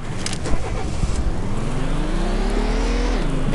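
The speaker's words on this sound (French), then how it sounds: "on entend changer des vitesses" A car engine in a racing video game revs steadily upward, its pitch climbing and then dropping briefly as it shifts gears, loud and continuous with no talk over it.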